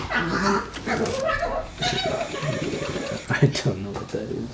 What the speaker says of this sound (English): You might hear some of my dogs in the background fighting each other.